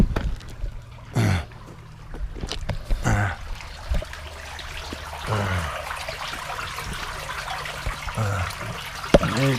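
Water flows with a reduced stream at a ranch, a low steady rush and trickle heard up close, broken by several sharp bumps and handling knocks.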